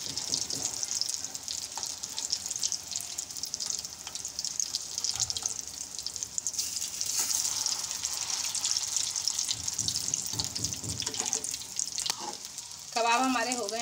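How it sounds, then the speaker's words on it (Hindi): Potato and egg kebabs frying in a pan, a steady close crackle and hiss of hot oil throughout, with a few clinks and a brief high tone near the end. "फ्राई करेंगे हम"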